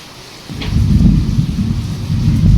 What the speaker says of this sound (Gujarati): મને નથી લાગતું કે આજ વરસાદ બંધ થાય